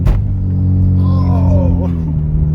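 A 2013 Hyundai Genesis Coupe with a 2.0L turbo engine accelerates, a steady low engine rumble heard from inside the cabin with a rising whine partway through.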